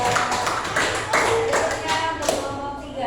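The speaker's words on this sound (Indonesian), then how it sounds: "Tepuk tangan untuk kelompok 2." Classroom group applauding students of group 2 after their presentation, a short burst of brisk, fairly close hand claps with some irregular taps, accompanied by voices.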